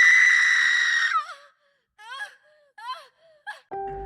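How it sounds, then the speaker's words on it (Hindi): A woman in an anime scene lets out a loud, long, high-pitched blood-curdling scream that breaks into shaky gasping wails and whimpers, ending in a short tonal sound effect. "ऐसी ब्लड कर्डलिंग स्क्रीम सुनकर पूरे रूम में हाहाकार मच जाता है।"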